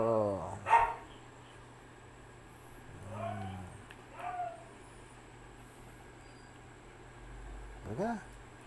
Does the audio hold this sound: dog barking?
yes